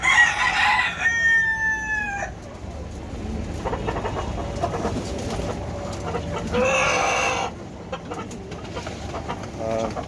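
Brahma chickens cluck and a rooster crows inside a fully set-up poultry shed, the crows loud and close in two bursts near the start and middle, with steady clucking and farmyard noise throughout.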